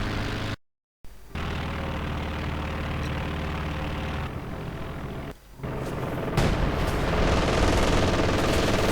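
Dense strafing gunfire from a World War II strategy video game, a continuous loud rattle of shots under engine rumble, with a brief dropout and a heavier burst near the end.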